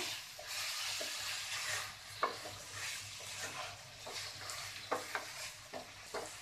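Vegetarian curry of pre-boiled jackfruit and fried potato is stirred and fried in oil that has begun to separate: a soft continuous sizzle broken by repeated scraping strokes of a spoon against the pan.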